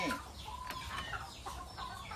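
Chickens cluck in a loose cluster of short, bright calls, close and moderately loud, with no talking over them.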